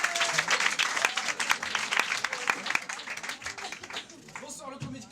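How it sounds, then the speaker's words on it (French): Applause from a comedy club audience, steady dense clapping with a few cheers, fairly loud and continuous before tapering slightly toward the end. "Mesdames et messieurs, je vous demande d'applaudir Joris Noémie."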